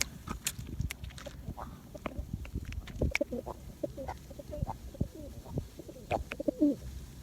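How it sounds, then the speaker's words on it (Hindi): Soft pigeon coos and bird calls up close, scattered among shuffling and light handling noises in a quiet space. "तो ये कबूतर है जी, थोड़ा सा इसका फंक्शन दिखा देना।"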